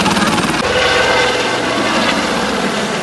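Helicopter of the Hampi by Sky sightseeing service, heard as a steady, loud rotor and engine drone with a rhythmic beating, constant throughout with no talk.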